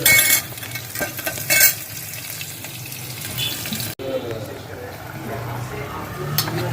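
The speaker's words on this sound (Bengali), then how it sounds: "এবার পেঁয়াজটা ভাজা ভাজা হোক" Onion sizzles as it fries in a pan for a mutton head curry, with steady frying crackle and bursts of stirring and scraping that are loud and close, along with some running-water noise.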